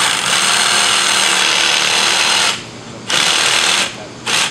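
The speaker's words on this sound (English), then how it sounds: "Rotate it every once in a while in the vise, so you can keep a comfortable spot for cutting." A cutting tool works through material clamped in a vise while a gem sieve is made, giving a loud, steady buzzing rasp that stops briefly twice and then resumes.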